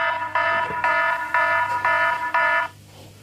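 Anti-touch Android phone app sounds its alarm tone: five loud, shrill electronic beeps in a steady pulsing rhythm, each about half a second long, heard alone before cutting off.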